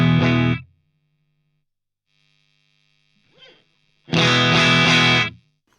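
An electric guitar through the bright channel of a Dr Z Remedy amp, two loud distorted strums, each ringing about a second before cutting off, with a quiet pick noise between them.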